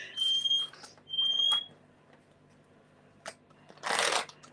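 A bird mimics a smoke alarm with short, shrill high-pitched beeps, followed by a couple of sharp clicks and a burst of rustling noise.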